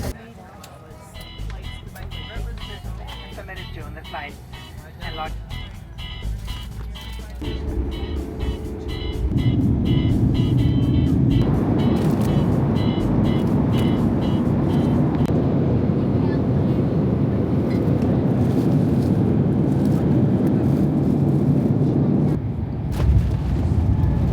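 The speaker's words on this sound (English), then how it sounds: "It's a really small plane." Inside the cabin of a small budget airline plane flying to Iceland, engine drone rises to a loud, steady roar that holds throughout, with clicking and rattling early on and people talking beneath it.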